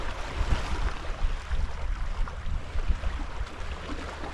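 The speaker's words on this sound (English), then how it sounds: "that wind, that northeasterly, is continuing to drop" Northeasterly wind out at sea in the Bristol Channel, heard from a fishing boat as a continuous gusty rush with microphone buffeting, blending with wash from the surrounding water, no talk.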